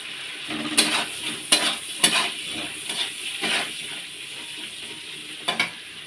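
Food with capsicum fries in a pan with a bright sizzle, while several sharp spatula scrapes and knocks land at irregular intervals.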